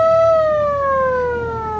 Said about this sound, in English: Yeah, it's quite a good horn, actually.